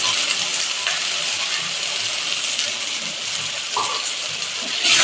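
Fried coconut pieces tipped into simmering ghugni in a hot pan give a steady, close frying hiss with a few light clinks and scrapes as they are stirred in; no one speaks.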